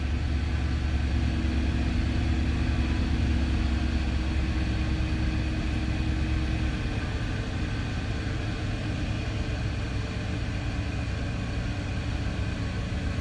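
A Land Rover engine idling after a cold start, a steady close mechanical hum whose low drone audibly drops in pitch partway through as the revs settle, with no talking.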